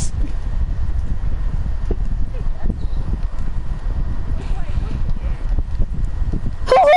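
Horse hooves in Red Dead Redemption 2 clop steadily and close on a hard surface in a continuous walking rhythm, with a short voice at the very end.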